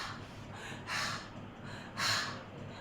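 A person breathes in to imitate the letter H sound, making two soft, airy inhales about a second apart over quiet room noise, without speech.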